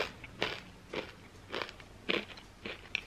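Someone crunching Japanese peanut crackers, small coated peanut balls, with repeated crisp bites and chews spaced about half a second apart, close to the mouth and without speech.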